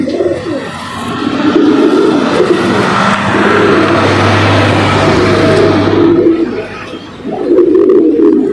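Tournament racing pigeons coo continuously and close by, a low throaty burbling that repeats over a steady background rumble.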